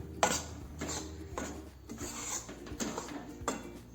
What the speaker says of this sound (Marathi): आणि सतत असं हलवत राहायचं आहे त्याला